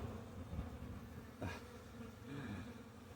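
Honeybees buzzing around a beekeeper at an open hive, a close, continuous insect drone with brief louder passes near the microphone.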